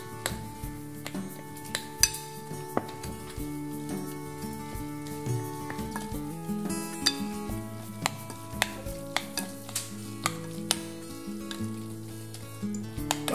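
A spoon scrapes and taps against a bowl while garlic bread paste is mixed, with regular clinks over a backdrop of steady music.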